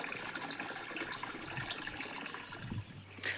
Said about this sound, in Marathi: एवढं ड्रम भरायचं झालं ना मग पाणी बंद करतो मी